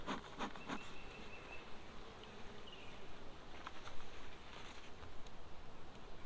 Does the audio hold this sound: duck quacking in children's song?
no